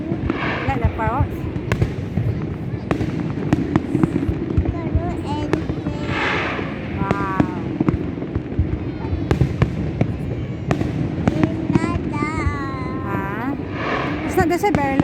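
Fireworks display in Singapore: repeated sharp bangs and crackling bursts with whistling rising tones, loud and fairly close, while a person talks intermittently throughout.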